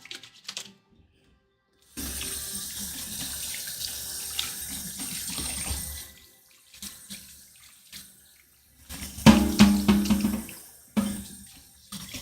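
Kitchen tap water runs steadily while something is rinsed, stopping and starting in a few bursts with brief pauses, ending in splashing and clattering near the sink.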